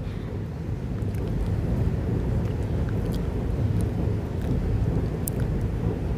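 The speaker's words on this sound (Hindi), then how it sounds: "तो यहाँ पे मेरे हस्बैंड वेट कर रहे हैं बारिश कम हो जाए पर मैं तो यहाँ पे अच्छे से भीग रही हूँ" Heavy rain pours steadily on a roadside stop, a dense constant roar with low rumbling that may be thunder, loud and unbroken throughout.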